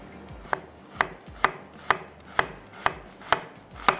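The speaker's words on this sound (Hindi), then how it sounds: "मैं नाइफ़ ले लेती हूँ और प्याज को चॉप कर लेते हैं" A knife chopping a medium-sized onion on a cutting board in a kitchen, eight sharp, evenly spaced chops close by, alone and without talk.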